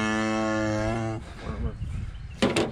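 A cow held in a head gate during vaccination gives a long, loud moo, then goes quiet amid scuffling and clanking of the gate and handling noises nearby.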